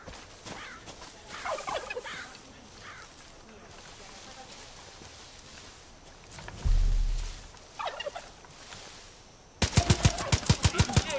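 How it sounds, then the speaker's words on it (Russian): A wild turkey in the open-world shooter Far Cry 5 gobbles in several short rattling bursts amid outdoor game ambience, followed by a heavy thump and a rapid burst of gunfire at the end, with some talking mixed in. "Индейка! Поджарим ее!"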